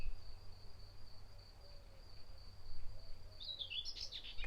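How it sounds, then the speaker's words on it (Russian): Bird singing in a garden, heard as faint high chirps and a brief twittering burst near the end over a steady insect-like drone and low background rumble, with no talking. "лучше замолчать, да, и послушать птичку"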